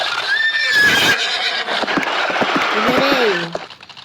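A horse in a Roblox game whinnies loudly, then hoofbeats clatter amid game noise, ending with a second, shorter neigh.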